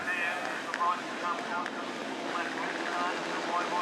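Supersport 300 race motorcycles rev together on the starting grid of an Australian Superbike Championship round at Phillip Island, a dense high-pitched engine whine with rising and falling revs under a commentator's voice.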